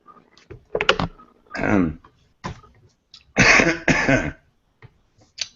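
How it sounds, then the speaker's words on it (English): A man recovering from pneumonia coughs in several harsh, close bursts with throat clearing in between, loud and dry, separated by short quiet gaps. "I'm still fighting pneumonia, and I have a cough that's lingering."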